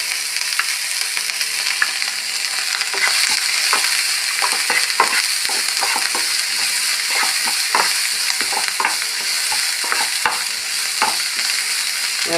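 Green chilies stir-fried with salt and crushed pepper in a pan for egg roast, giving a steady close sizzle with frequent scraping stir strokes throughout, no talking.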